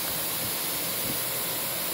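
A Lindhaus Aria Elite vacuum cleaner runs during a suction test, giving off a loud, continuous, even roar and hiss with no breaks.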